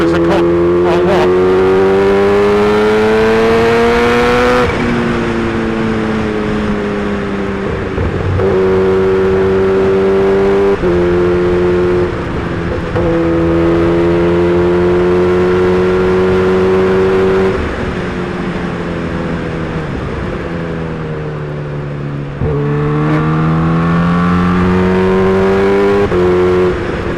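A Kawasaki Ninja H2 motorcycle is ridden along winding roads, its engine loud and close throughout, pitch rising through the gears and easing off around corners before building again.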